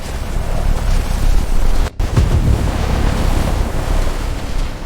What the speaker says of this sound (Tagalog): Isang higanting alon ang sumugod na tila kayang lunukin ang buong barko.